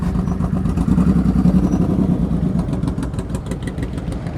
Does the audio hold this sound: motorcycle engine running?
yes